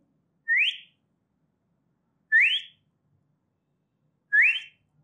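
A person imitates the whistle of a male shikra with three identical sharp, rising whistles, evenly spaced about two seconds apart, each clear and alone against silence.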